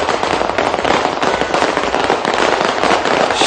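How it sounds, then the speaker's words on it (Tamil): A Christmas fireworks display crackles and pops continuously in a dense, loud barrage of bursts, with no clear pauses and no voices. "சக்தி சிரச நத்தார் வலயத்தின் வான வேடிக்கைகள்"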